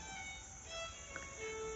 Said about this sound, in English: Get that little bee.